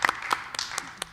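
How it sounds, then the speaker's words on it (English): A small group at a school board meeting gives Mike a brief, scattered round of applause, a few sharp claps close together in a quiet room. "Let's clap for Mike."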